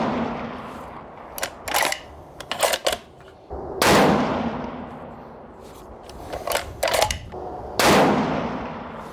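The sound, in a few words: rifle shots, 6.5 Ruger Precision Rifle with Krieger barrel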